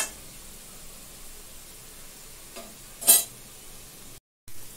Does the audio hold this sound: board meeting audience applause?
no